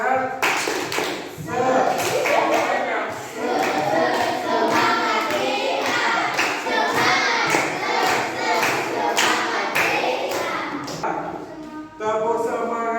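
An Indonesian classroom performing the rhythmic tepuk semangat clap, sharp patterned group claps in quick bursts mixed with children's chanting voices, loud and close, with a teacher talking.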